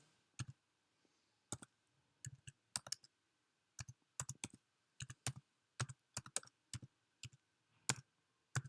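Irregular bursts of clicking keystrokes on a computer keyboard, typed close by in short quick clusters with brief pauses between them, with no voices present.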